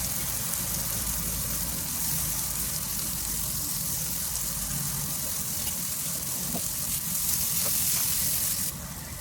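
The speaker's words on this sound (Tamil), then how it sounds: "வெங்காயம் நல்லா வதங்கட்டும்." Sliced onions and green chillies fry in a pan, with fennel and cumin seeds mixed in. They give off a continuous loud hiss and crackle that holds steady for several seconds, with no talk over it.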